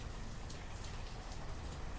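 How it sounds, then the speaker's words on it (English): Steady rain falls in the game Banished, a dense even hiss of drops with no pauses through the short stretch. "Yeah, it's raining"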